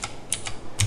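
A few crisp clicks of computer keyboard keys, including the Enter key, close and distinct, the last press a touch heavier, with no talking.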